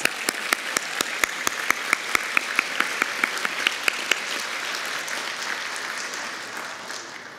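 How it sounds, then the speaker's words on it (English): An audience at a city State of the City event applauds for firefighters, one sharp near clap ringing out in a regular rhythm over a broad crowd wash that gradually fades. "Let's give our firefighters a round of applause."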